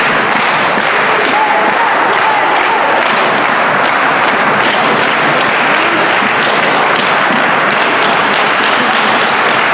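A pro wrestling crowd cheers and applauds loudly and continuously, a dense roar of clapping with rhythmic thumps mixed in, no clear speech on top.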